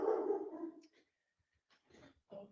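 A dog barks loudly at close range in a short burst at the start, followed by a few fainter yips and whimpers after a pause, in an indoor home setting during a live online talk show.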